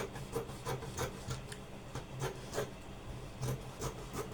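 Scissors cutting through excess fabric for a kimono jacket: a quick series of rhythmic crisp snips and rustles, close and fairly quiet, with no talk.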